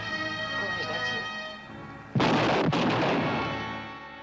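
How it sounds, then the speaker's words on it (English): In a Purple Gang crime scene a cop is shot: two sharp, loud gunshot bursts land close together over a tense film soundtrack bed, ringing out briefly before fading. "Here, a cop is shot."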